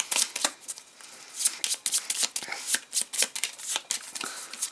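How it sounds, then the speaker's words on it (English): Deck of cards for the Cthulhu deck-building game being shuffled by hand, a dense rapid riffle of papery flutters and snaps lasting several seconds, close and alone. "these need a good shuffle"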